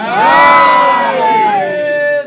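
A large crowd at a Shia majlis (memorial gathering) in Azamgarh roars the Naara-e-Haidari slogan together. The massed shouting is loud and sustained, with strong harmonic voices that swell, then fade at the end.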